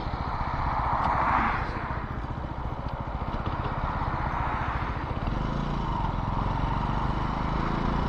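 A vehicle engine runs steadily during a road ride, a continuous low throbbing drone with a brief swell of road and wind noise early on, no talking.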